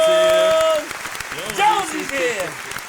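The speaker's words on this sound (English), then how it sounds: "Round of applause for Miss Jones" Applause for a guest on a talk show, heard after a short held tone and quickly breaking up into scattered claps under loud, overlapping talk and cheering voices.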